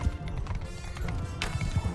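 Hooves of a mounted cavalry unit drum in an irregular clatter during a Mount and Blade Bannerlord battle, loud and close, with a sharp hit near the end and battle noise beneath.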